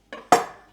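Two quick knife strikes through cherry tomatoes onto a board, a light tap followed by a sharper, louder knock that rings briefly, close and alone.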